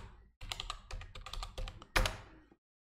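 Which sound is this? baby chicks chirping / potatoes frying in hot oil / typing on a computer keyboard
typing on a computer keyboard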